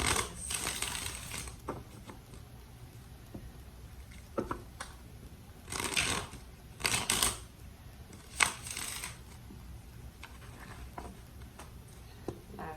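Repeated crisp riffling bursts of tarot cards being shuffled, close by, in a few separate runs with short pauses between them; no talking.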